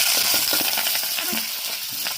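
Onion and green chilli frying in a pan, giving a steady bright sizzle with occasional stirring scrapes, close and continuous with no talk.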